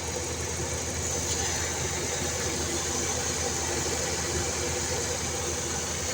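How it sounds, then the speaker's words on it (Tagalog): A car engine idling nearby with the air conditioning on and an idle-up problem, a steady low rumble with a faint rhythmic knock running evenly throughout. "Pakinggan nyo, obserbahan nyo yung andar ng makina."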